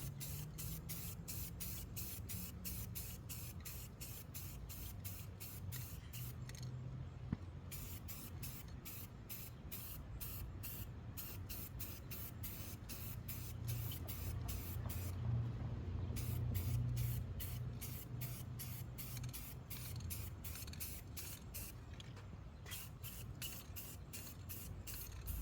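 A spray gun lays a top coat of paint over a welded car body panel during rust repair, in long hissing bursts with brief pauses between passes, steady and close, with no voices.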